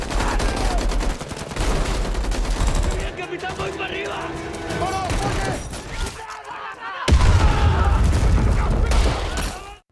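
Loud bursts of gunfire, rapid shots and booming impacts in fast clusters, breaking off briefly before another heavy volley.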